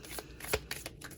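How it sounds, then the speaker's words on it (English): A deck of tarot and oracle cards is shuffled by hand, giving a quick series of close, crisp riffling bursts with one sharper snap in the middle. "Just trying to get these shuffled as much as I could"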